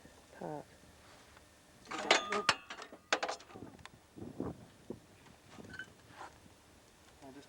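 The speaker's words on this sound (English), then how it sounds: "This is pushing the bushes back into the newly welded part." Bushes are pressed back into a newly welded Panhard rod during a vehicle repair, producing irregular metallic clanks and ratcheting clicks, loudest in the middle, with faint voices at times.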